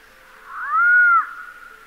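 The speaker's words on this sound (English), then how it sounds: "That's the Andean potoo." The call of an Andean potoo, a bird of the Andes mountains: a single drawn-out moaning note that swells and then fades, clear against a quiet background.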